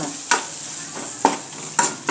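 Turmeric, dried red chilies and curry leaves fry in hot oil for a tempering, giving a close, steady sizzle with a few sharp stirring scrapes at uneven intervals.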